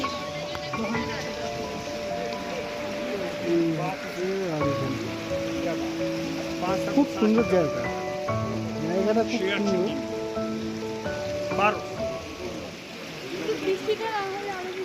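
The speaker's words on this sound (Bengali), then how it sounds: "পিছনের দিকটা ছাতাটা ধরতে হচ্ছে কারণ বৃষ্টি হচ্ছে।" Steady rain patters down across Aru Valley in Kashmir, a place with snow lying all around, with a continuous soft wash running beneath people talking close by for the whole stretch.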